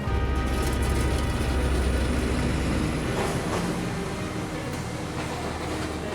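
A tram rolling through a Japanese city, rumbling wheels and rattling carriage with faint rail clatter, close and loud, easing slightly toward the end, no speech.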